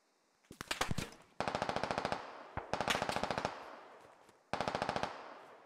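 Automatic weapon fire in the military shooter SquadOps: loud, close bursts of rapid rhythmic shots, several separate volleys with short pauses between them.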